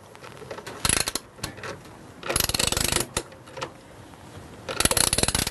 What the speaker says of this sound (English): using a socket spanner, I just need to loosen these nuts